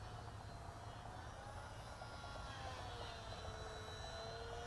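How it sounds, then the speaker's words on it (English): A small UM T-28 model airplane flying, its thin electric whine weaving with rising and falling pitch over a steady low rumble of background noise, continuous and moderately distant. "Probably not supposed to fly planes towards you either, but it's a little plane"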